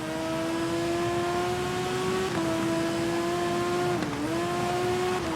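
A supersport motorcycle engine in TT Isle of Man, a steady high whine broken by two brief drops in pitch as it shifts down a gear.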